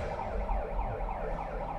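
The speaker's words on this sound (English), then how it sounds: "So the second lane is coming in right now, that's why the siren is still on." A warbling siren sounds at an Amazon delivery station while delivery lanes load vans, a steady rising and falling wail heard close and loud throughout, with no voices over it.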